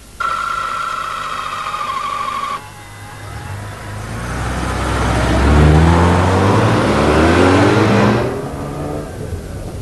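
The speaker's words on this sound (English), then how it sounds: "The rotary engine revs extremely freely and has quite a nice sporting exhaust note" A Mazda RX-7 FC's rotary engine revs freely, its sporty exhaust rising in pitch and swelling loud, holding high, then easing off, close and with no voices.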